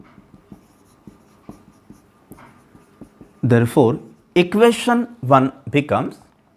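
Pen or pencil scratching out mathematical equations by hand on paper, a series of faint, light strokes and taps, followed by a person speaking close up.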